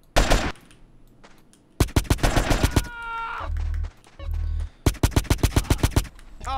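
Rapid automatic gunfire in GTA San Andreas, crackling in three loud close bursts of quick repeated shots, separated by short gaps with a low rumble and brief other game noises.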